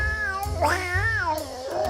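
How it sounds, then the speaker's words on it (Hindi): A cartoon shopkeeper's cat, belonging to a peanut seller and bouncing around restlessly, lets out a loud, drawn-out, wavering meow that rises and falls in pitch over about two seconds, close and alone. "अरे कोई इस बिल्ली का मुंह बंद करेगा?"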